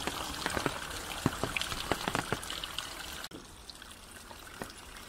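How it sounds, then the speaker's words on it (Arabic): Small forest waterfalls near Ehden, Lebanon, trickle and patter on a rainy day, a soft continuous wash of water with scattered droplet splashes, faint and steady with no talking. "شوفوا شو حلو هالشلالات الصغيرة"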